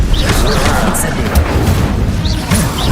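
Spell effects from Hogwarts Legacy, the Incendio fire spell, burst as loud booming, crackling blasts in a chaotic combat scene, with a voice shouting over the noise.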